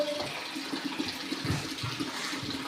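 Water runs continuously from a tap in a steady, close rush, as if being left on and wasted, with no voices over it.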